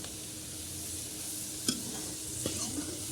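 Onions and tinda gourd fry in a pan for a Punjabi sabzi, a steady close sizzle with a couple of sharp scrapes from stirring.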